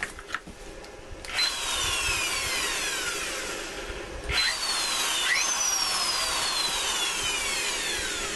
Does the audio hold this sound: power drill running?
yes